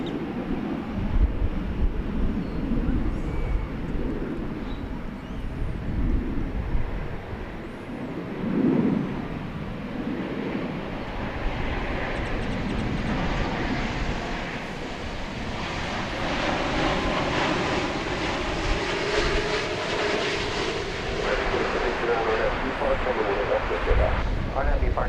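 An airliner in Yam Dreaming livery rumbles at DFW Airport, a steady broad jet roar with wind buffeting the microphone, growing somewhat fuller toward the end while someone talks over it throughout.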